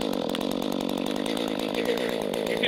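A ported, hot-rodded Stihl-type CS310 chainsaw runs steadily at high revs, a loud, continuous buzzing two-stroke drone close by with no pauses.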